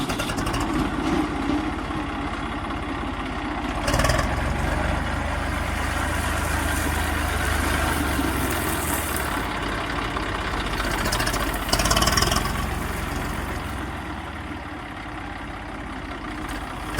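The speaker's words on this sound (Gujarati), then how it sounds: "ધક્કો લાગે ને ટ્રેક્ટર શરૂ થાય" A tractor engine push-started on a slope at a farm field runs steadily at idle, a continuous low mechanical rumble with brief louder surges around four and twelve seconds.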